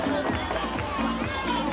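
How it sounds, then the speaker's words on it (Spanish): Audience applause at an outdoor carnival event, a dense, steady wash of clapping and crowd noise filling the whole moment with an amplified voice faintly over it. "Fuerte aplauso para ellos"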